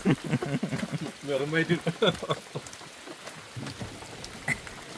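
Rain patters steadily on a surface while a person talks close by over it.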